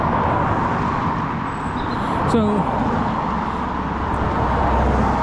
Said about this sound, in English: the noisy bloody traffic